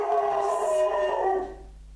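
A dog howls and barks indoors, a sustained tonal wail lasting over a second before fading into quiet.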